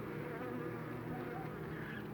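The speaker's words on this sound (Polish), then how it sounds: "Spokojne, kurcze, fajne pszczoły." Honeybees drone around an open hive in an apiary, a dense steady buzzing close up that fills the whole stretch without any speech.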